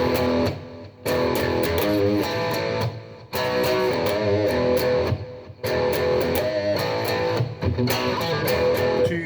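A loud, distorted electric guitar riff from a song, played in chunky bursts with short pauses between phrases, full and up front.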